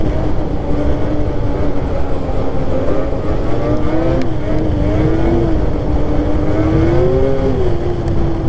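A Titan S4 snowmobile engine drones loud and close on throttle during night trail riding, its pitch rising and dipping steadily as the rider pushes through corners.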